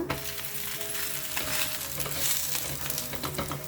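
A raw green pea snack fries in oil in a pan while it is turned, giving a quiet, close sizzle with scattered light scraping and clinking of a utensil and no voices.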